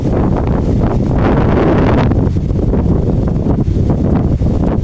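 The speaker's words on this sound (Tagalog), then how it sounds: "Malakas ang hangin, malamig." Strong, cold wind buffets the microphone outdoors, a steady loud roar with rustling gusts running the whole time.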